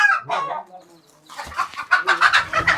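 Farm chickens cluck in a few scattered notes, then in a quick, busier run of clucks close by, with no other sounds.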